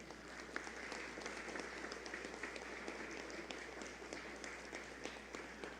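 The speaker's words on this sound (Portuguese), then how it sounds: "Eu peço um aplauso para João do Vale." Steady applause from an audience at a cultural talk session in Belo Horizonte, a dense sustained patter of many hands clapping at moderate level throughout without pause.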